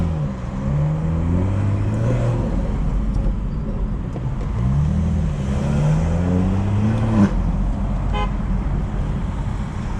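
A BMW 440i accelerating in city traffic in the Bronx, its engine note rising and steady, heard from inside the car. A brief horn-like tone chimes near the end, and no one speaks.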